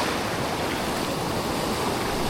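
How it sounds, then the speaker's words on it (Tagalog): Steady ocean surf washing along a shore during a GT fishing session, a continuous broadband roar with no distinct individual breaks, fairly loud and unbroken with no voices. "Parang humihina yung alon eh."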